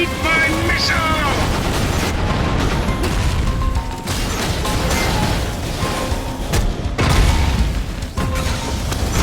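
Missile launches and blasts in the game FIST, dense booming and crashing impacts rolling on over nine seconds, loud and continuous, with a voice speaking through the din.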